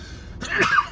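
A single sharp sneeze bursts out close by, preceded by a quick intake of breath, with a short vocal tail afterward.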